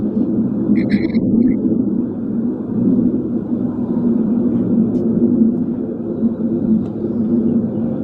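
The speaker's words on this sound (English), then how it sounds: "Sounds like jets." Jet aircraft rumble overhead in a steady, continuous low roar that fills the whole stretch, holding at an even level without clear peaks or breaks.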